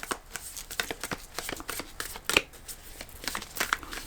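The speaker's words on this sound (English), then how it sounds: "let's pull a couple of archetype cards for you, Leo." Archetype cards shuffled by hand, a close run of quick papery riffles and snaps that come in an uneven rhythm, with no voice.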